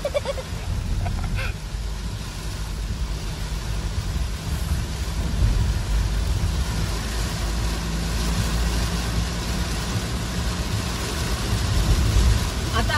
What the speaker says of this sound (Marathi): एवढा मोठा पाऊस पडतोय